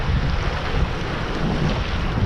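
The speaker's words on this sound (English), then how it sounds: "that wind is howling" Strong wind howls across open water at a bass lure-fishing spot, a steady loud roar of gusts buffeting the microphone with no speech over it.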